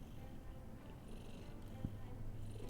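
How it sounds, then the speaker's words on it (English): A cat purrs softly and steadily in someone's lap, quiet and close, a continuous low rumble with a brief faint knock partway through. "There's a very pretty kitty in my lap."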